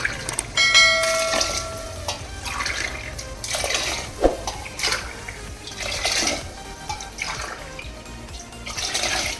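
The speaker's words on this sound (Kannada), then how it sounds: "ನೀರು ಹಾಕ್ತಾ ಇದ್ದೀನಿ, ನೋಡ್ಕೊಳ್ಳಿ." Water pours from a glass into rice in a pressure cooker for Mysore vegetable pulao, a steady splashing and gurgling stream with a few clinks and bubbling surges, close and fairly loud.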